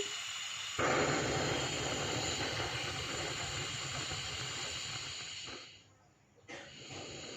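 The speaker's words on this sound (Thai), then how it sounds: "เราก็จะทำการจุดแก๊สเลยนะคะคุณ" A gas stove burner is lit for stir-frying vegetables, giving a steady close hiss that starts abruptly, holds for several seconds, then dips and briefly returns.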